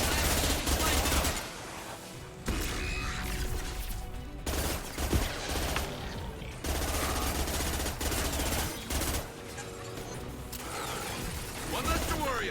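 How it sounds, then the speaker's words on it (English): Sustained gunfire from the Mass Effect video game, loud and busy bursts across the whole stretch with mechanical clatter mixed in, broken by a few brief gaps, with a voice talking over the combat. "We're taking too much fire."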